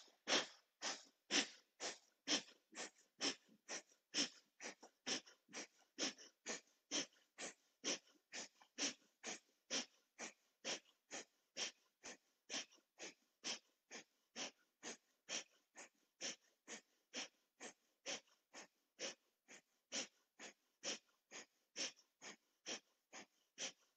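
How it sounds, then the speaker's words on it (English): Deep yogic alternate-nostril breathing during a Hatha yoga session, a steady series of sharp, forceful nasal breaths in quick rhythmic pulses, about two per second, close and fairly quiet, continuing evenly for the whole stretch. "Make a deep inhale and exhale."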